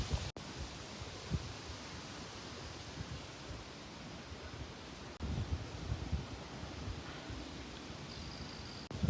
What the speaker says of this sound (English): The wind is picking up, which means it is moving from the west.